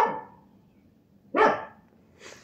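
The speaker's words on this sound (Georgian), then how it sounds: "ლეკვის ხმა ისმის" A puppy gives two short, sharp barks spaced about a second apart, nearby and fairly loud, with a softer yip at the end and quiet between them.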